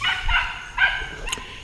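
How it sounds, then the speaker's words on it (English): A dog barks at something up in a tree in a garden, giving a few sharp, fairly near barks in quick succession, heard on their own without talk. "the dog sees something in a tree over there and he just won't quit barking"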